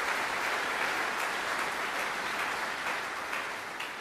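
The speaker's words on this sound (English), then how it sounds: "So let's give them a round of applause for that." Sustained audience applause at a military change of command ceremony, dense steady clapping from a large crowd that continues evenly throughout and only thins slightly toward the end, with no voices over it.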